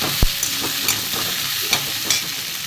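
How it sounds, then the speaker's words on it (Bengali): Thinly sliced potatoes frying in a pan give a steady, loud sizzle, with several sharp scrapes and clinks of stirring at irregular moments and no talk. "আলুটা একটু ভালো করে ভেজে নেবো।"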